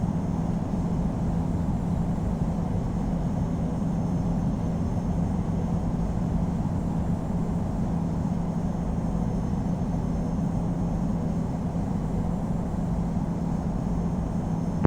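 A Boeing 747-400 taxiing in the Infinite Flight game gives a steady, continuous low engine rumble with a faint hum that stays even for the whole stretch, with no voices.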